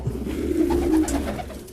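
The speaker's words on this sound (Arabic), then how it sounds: "فانا حبيت ابص على الحمام معاكم يعني" Domestic pigeons cooing in a loft, a close, low rolling coo sustained for about a second amid soft background noise.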